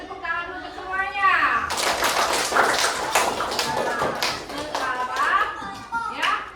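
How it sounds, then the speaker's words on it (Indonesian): Primary school classroom children clapping together in a burst of quick, rhythmic claps close by, bracketed by a teacher's voice talking before and after. "beri tepuk tangan untuk semuanya"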